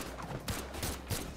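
Gunfire in the Brawlhalla fighting game: three sharp, loud bursts spaced roughly a third of a second apart over a steady background of game noise.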